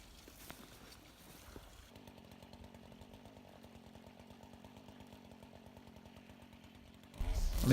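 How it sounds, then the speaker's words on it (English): Stihl FS90 curved-shaft petrol strimmer trimming grass on a ditch bank, a steady buzzing engine drone heard at a distance for several seconds before a louder, closer rustle at the end. "I'm using a Stihl FS90 strimmer here, just to finish off tidying the bank of the ditch"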